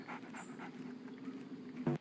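A dog pants steadily in Tom Clancy's Splinter Cell, Mission 9, at the Georgian Presidential Palace. The quiet rhythmic breaths sit close, ending with a short louder whimper-like note.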